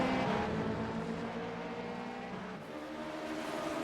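Race cars, a Cadillac GTP prototype and LMP2 cars in an IMSA iRacing sim race, give a steady, loud engine drone with a harmonic whine that dips slightly midway as the pack runs nose to tail.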